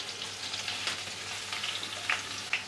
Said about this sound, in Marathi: इथे मी कढईमध्ये तेल गरम करून घेतलेलं आहे आता राई घालूया त्यानंतर जिरं घालूया त्यानंतर कढीपत्त्याची पानं बारीक चिरलेली हिरवी मिरची